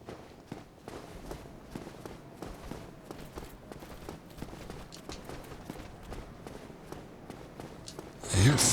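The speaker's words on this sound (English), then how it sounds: "I hear footsteps." Footsteps in the video game Dark Souls tread in a steady, even rhythm at moderate loudness, with metallic, clip-clop-like steps continuing the whole way before a louder burst of game sound at the very end.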